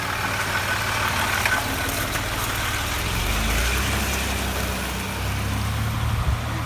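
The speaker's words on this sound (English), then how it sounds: "Engine is running, we got oil pressure, and it's no longer broken." A freshly rebuilt Land Rover TDV6 diesel engine idles steadily in a Discovery 3, a continuous close low rumble that holds even throughout without revving or voices.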